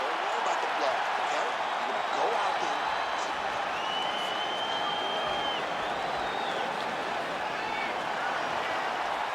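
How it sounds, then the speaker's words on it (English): A UFC arena crowd roars steadily before the fifth and final round of Kamaru Usman versus Khamzat Chimaev, a constant wash of cheering and applause that fills the whole space. "This crowd is going sick after what they saw in that previous round."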